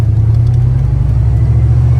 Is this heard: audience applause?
no